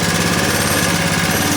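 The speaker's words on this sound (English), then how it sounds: "You can start this thing right now, and the go-kart won't even roll." A go-kart engine with a centrifugal clutch idles steadily and loudly, clutch not engaged, giving a continuous close, rattling mechanical drone with no speech.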